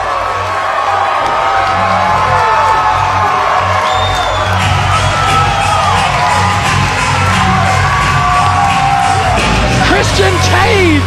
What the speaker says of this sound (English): this crowd is going ballistic